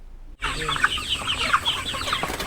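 Chickens clucking close by, a series of short, irregular clucks over faint farmyard background, starting abruptly after a brief silence.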